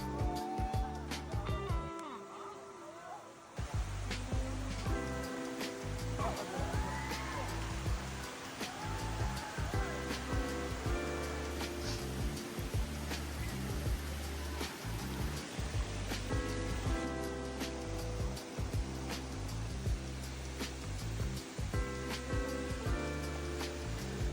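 Cambugahay Falls waterfall on Siquijor Island, a steady broadband rush of falling water that continues without a break, loud and close, with faint voices and other sounds layered on top.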